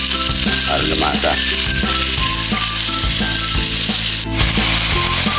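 Meat frying in a pan with marinade added, for a cassava adobo dish, a loud steady sizzle close up with faint stirring and scraping knocks throughout.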